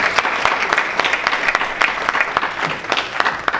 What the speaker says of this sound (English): Can we just give our last speaker a clap of